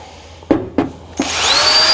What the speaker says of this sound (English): So let's do some drilling.